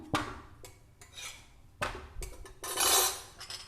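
A chapati of bottle gourd dough is laid onto a hot pan and turned, producing several sharp metallic clinks and scraping knocks spaced irregularly, with a longer rustling scrape near the end.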